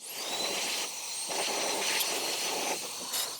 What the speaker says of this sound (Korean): 송풍기로 털어줍니다